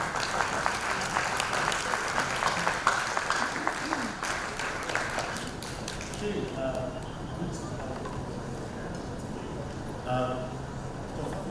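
An audience at a young founders' entrepreneurship forum keeps up a long stretch of steady applause, dense at first and gradually thinning, with voices talking over the clapping in the room.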